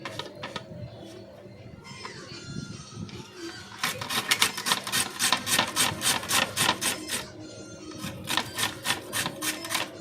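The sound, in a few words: grating potato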